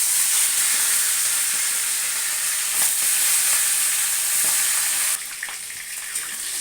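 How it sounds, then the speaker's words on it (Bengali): Fish heads fry in hot oil for a Malabar spinach curry, giving a strong, steady sizzling hiss with occasional spatters and light stirring, close up, easing somewhat near the end; no talk. "মাছের মাথাগুলো এক এক করে ভেজে নেব।"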